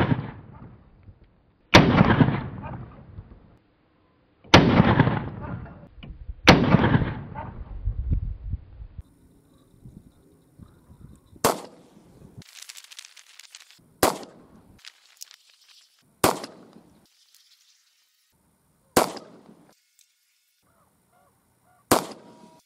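A gun with hybrid monoclinic rifling being test fired outdoors: about eight loud, sharp shots at irregular intervals, the first few followed by long booming echoes, later ones shorter, with quiet gaps and no talking.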